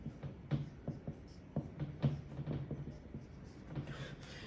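Pen scratching and tapping as numbers are written by hand, a run of short soft strokes in uneven rhythm, close but faint, with a low hum beneath.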